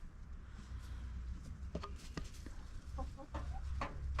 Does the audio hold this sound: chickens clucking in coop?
yes